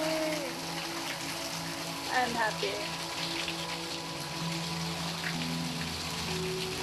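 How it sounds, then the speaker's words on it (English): A waterfall heard from close by, giving a steady, even rush of falling water throughout, while a person speaks briefly over it. "great to just stand next to a waterfall and hear it do its thing"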